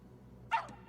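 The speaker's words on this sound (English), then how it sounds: "Stanley's dog Milo shows how much of an awesome dog he is" A dog in a movie gives a single short bark over a low background hum, a brief burst near the end of a quiet stretch.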